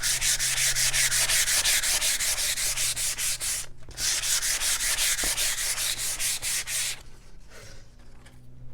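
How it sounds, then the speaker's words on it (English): Hand sanding of a wooden country cabinet with rapid, even up-and-down rubbing strokes, close and steady for about seven seconds, then a brief pause with faint rustling. "So I'm going to continue to sand up and down."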